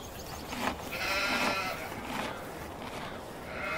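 Sheep bleat in Farming Simulator 17, a few wavering, nasal calls overlapping at moderate volume over a steady farmyard ambience.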